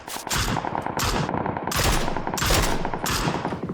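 Rapid automatic gunfire in the battle royale game PUBG on the Miramar map, loud dense bursts of shots one after another with short breaks, up close and continuous.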